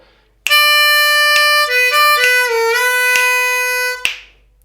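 A blues harmonica plays the 5 chord portion of a song, loud and close, in sustained bright reedy notes that shift pitch and bend across several beats before a breathy release.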